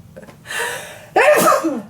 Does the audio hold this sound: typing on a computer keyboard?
no